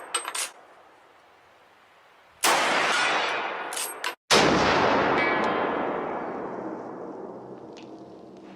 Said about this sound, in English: we're going to do a little shooting today with this rifle